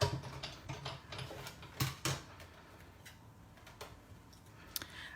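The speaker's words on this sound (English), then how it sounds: "I've just been using my Big Shot whenever I need to die cut anything" A Big Shot manual die-cutting machine is cranked to cut dies for a card, giving a quiet run of irregular mechanical clicks and ticks, busiest in the first two seconds and then sparser.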